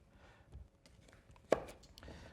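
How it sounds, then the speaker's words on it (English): A knife slices through a vegetable on a board during a vegetarian stir-fry prep, giving a single crisp chop near the middle against quiet kitchen background. "Now I'm just cutting that in half."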